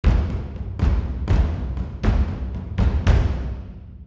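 A taiko drum ensemble hammers out a rhythm of deep, heavy strikes, each boom trailing off into room reverb, loud and spacious in a wide surround-to-stereo blend with plenty of distant ambience.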